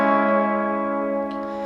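A single sustained guitar chord from a metal tutorial, ringing steadily with a slight change near the end as a pinky pull-off alternates notes, heard alone and close.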